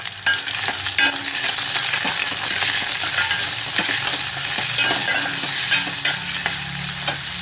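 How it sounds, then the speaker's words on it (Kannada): Onion, curry leaves, cumin and fenugreek frying in a pan, giving a loud, continuous close-up sizzle broken by frequent stirring scrapes and clicks, with no talking. "ಈಗ ಅದಕ್ಕೆ ಸ್ವಲ್ಪ ಜೀರಿಗೆ, ಒಂದು 4 ಕಾಳು ಮೆಂತ್ಯ, ಇದಿಷ್ಟು ಸ್ವಲ್ಪ ಹುರ್ಕೋಬೇಕು."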